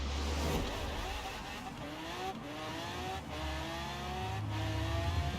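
A Chevrolet Camaro dragster in Forza Horizon 4 accelerates hard down the strip, its engine climbing through several rising revving sweeps with brief dips at the gear changes. It stays loud and steady, with no talk.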